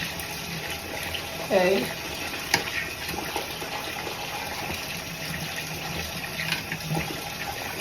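Water runs steadily from a tap while an 18-inch curly wig is rinsed, a continuous soft hiss with small splashes and a brief spoken word partway through.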